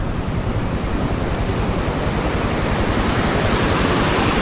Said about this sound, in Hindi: और ये बहता हुआ दरिया,